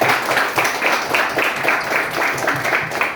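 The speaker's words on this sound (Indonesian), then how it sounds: "Guru-guru, tepuk tangan buat guru-guru kita" A crowd claps for the teachers at a religious gathering at a Tanah Abang high school, a dense, continuous patter of many hands heard close and fairly loud.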